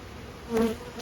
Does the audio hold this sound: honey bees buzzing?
yes